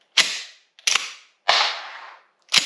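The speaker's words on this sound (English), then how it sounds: "Then I'm going to let that bolt fly" Shotgun bolt released to slam forward during malfunction clearing, giving four sharp metallic bangs spaced about 0.7 seconds apart, each loud and close with a short ringing tail, and no talking.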